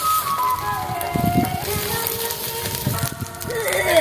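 Panch phoron spices sizzle in hot oil while shukto is being cooked, a steady broadband crackle and hiss with faint background hum throughout, fairly close and continuous.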